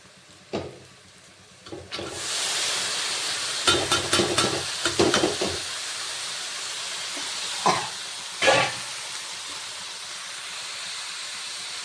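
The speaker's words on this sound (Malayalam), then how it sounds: "ഇനി നമുക്ക് ഈ കൈപ്പയ്ക്ക ഇട്ട് കൊടുക്കാം കേട്ടോ" Bitter gourd sautés with onion and chilli in a pan, a strong steady hiss and sizzle erupting as the pieces drop in, broken by several clattering stirs and scrapes, close and loud, with no voices.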